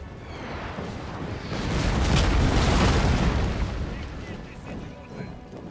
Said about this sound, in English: Meantime, our artillery opening up on them.